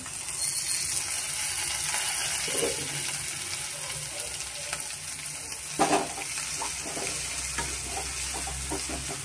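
Mixed vegetables and tomato fry in a pan over a medium flame, with a constant sizzle throughout and occasional scraping, clinking stirs from a spoon, close up and with no talk.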